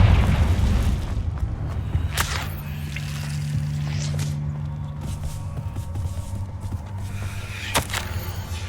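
A Confringo spell in the Hogwarts Legacy video game goes off as a heavy low boom that rolls into a sustained rumble, with sharp cracks near the start and end.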